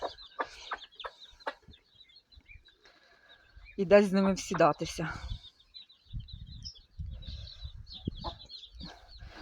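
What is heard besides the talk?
chickens clucking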